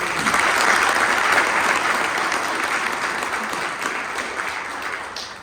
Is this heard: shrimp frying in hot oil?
no